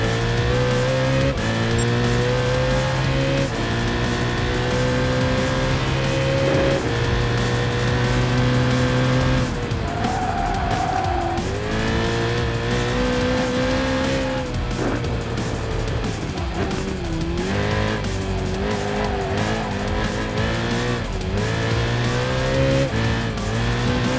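A GT3 race car laps the Nürburgring Nordschleife in the Gran Turismo Sport video game, its engine note climbing and dropping through gear changes, with brief tire squeals through corners, loud and continuous without speech.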